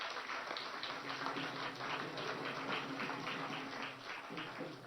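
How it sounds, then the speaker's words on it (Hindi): A political rally crowd applauds a speaker's welcome with continuous, distant-sounding clapping. The clapping stays soft and even throughout, with a faint low hum beneath. "आदरणीय नितिन गडकरी जी के लिए जोरदार तालियों के साथ हम स्वागत करेंगे।"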